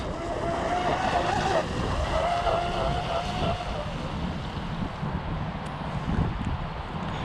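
Strong wind roars and buffets the microphone steadily, mixed with the droning motor hum of a Proboat BlackJack 42-inch RC boat throughout.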